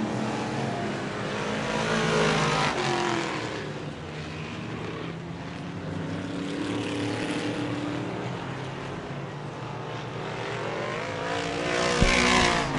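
Vintage race cars roar through turns three and four at a feature race, engines droning loudly and continuously as cars pass, with pitch swells and a louder surge near the end.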